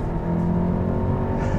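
The engine of a Ford Focus RS or Volkswagen Golf R gurgles through a downshift on a race track, a steady, close, loud drone lasting under two seconds.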